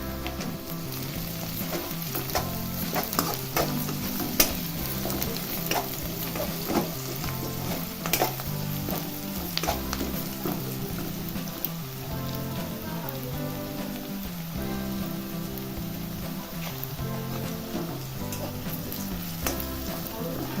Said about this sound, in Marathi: आता कांदा टाकलेला आहे हा चांगला गोल्डन वगैरे भाजून घ्यायचा आहे